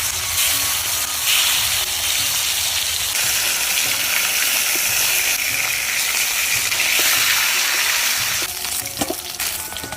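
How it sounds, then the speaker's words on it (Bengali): Snakehead fish pieces, rubbed with salt and turmeric, frying in hot oil, giving a loud steady sizzle and crackle that continues throughout and eases slightly near the end. "পরের মাছগুলো ভেজে নেব।"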